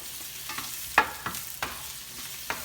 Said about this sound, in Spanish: Los voy a empezar a freír en el aceite